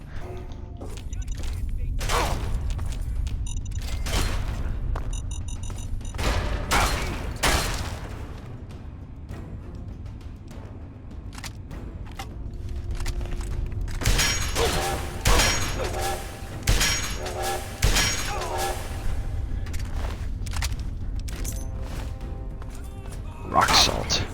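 Repeated gunshots ring out in Fallout 3 at irregular intervals, loud sharp blasts with crashes and mechanical clatter between them, and someone talks over parts of it.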